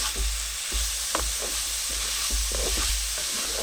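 Onion and garlic frying in a pan for pasta, a loud continuous sizzle with soft stirring scrapes and a few brief knocks, close up and without speech.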